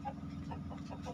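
Hens in a coop, two of them laying eggs, give soft, scattered clucks over a steady low hum, faint and fairly near.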